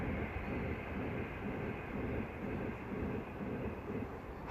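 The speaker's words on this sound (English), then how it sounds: "Oh yeah, I can hear a train now." A distant train rumbles past a canal towpath in a low, steady roar that holds throughout, faint and continuous with no voices.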